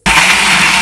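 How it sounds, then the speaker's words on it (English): A kitchen blender starts up abruptly and whirs at full speed, a loud, steady high-pitched motor roar making juice, with no talk over it. "I'm going to blend this now into a juice."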